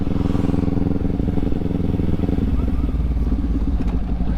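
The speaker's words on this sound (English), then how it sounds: "So we're gonna just go down second gear, and we're just gonna let the bike coast to its stop." Motorcycle in second gear coasting to a stop at a red light without the clutch, engine braking with a steady low rumble and light clatter, loud and close throughout with no talk.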